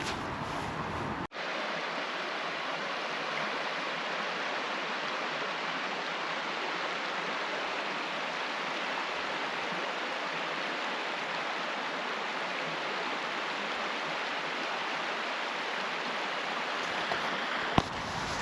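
Langdon Brook in the Forest of Bowland flows steadily, a loud, even rushing of water that fills the whole stretch without pause, with a brief knock near the start and another near the end.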